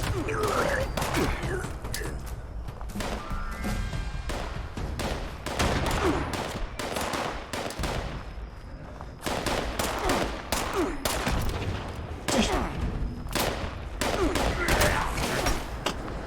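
Rapid bursts of gunfire from the video game Fallout 76, dense volleys and single shots repeating loudly throughout with brief gaps, mixed with game effects and occasional voice.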